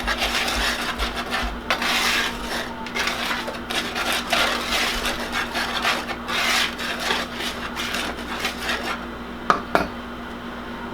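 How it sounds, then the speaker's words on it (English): Dry ingredients for an apple cobbler are whisked in a bowl: continuous, uneven scraping and rubbing strokes, close and fairly loud, with a couple of sharper clinks near the end. "we'll whisk our dry ingredients, get everybody blended and incorporated well"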